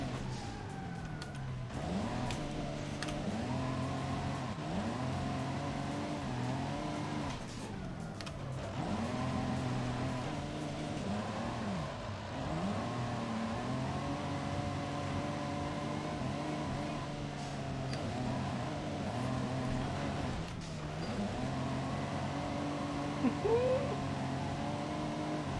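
A drift car in Forza Horizon 5 revs and slides, with engine pitch rising and falling in repeated swells, tire noise in the mix and a voice talking over it.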